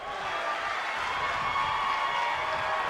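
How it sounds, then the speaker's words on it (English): A wrestling event crowd sends up a continuous broadband roar of cheering and some clapping, filling the space at an even, moderately loud level with no clear speech. "You can hear some Daniel fans out in the crowd tonight"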